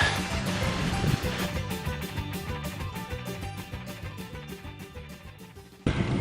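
Sea waves on the Crimean coast make a steady, continuous wash of surf that carries on without pause, with no voices over it.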